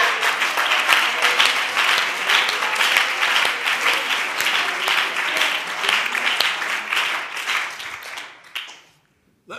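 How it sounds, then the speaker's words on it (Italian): A church congregation breaks into loud, sustained applause during a sermon, dense clapping that swells and then fades out near the end, followed by a brief quiet. "Applaudiamo il nostro Dio."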